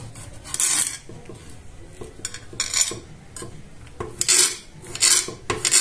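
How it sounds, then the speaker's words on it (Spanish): A knife chops tomato, onion and chile on a board for Mexican-style eggs, irregular bursts of close scraping and tapping strokes with short pauses between them. "Voy a partir tomate y cebolla. Y un chile."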